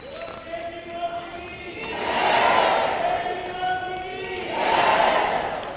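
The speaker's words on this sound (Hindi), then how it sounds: "एक बार जोरदार तालियां" A large crowd of elderly pilgrims and supporters bursts into loud applause and cheering at a send-off gathering, rising in two strong swells, with a voice over a loudspeaker partly audible beneath.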